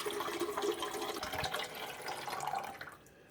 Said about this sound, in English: We're going to pour the entire contents of the bottle into the water reservoir.